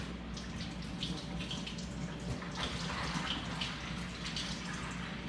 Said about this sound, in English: I like to rinse these off immediately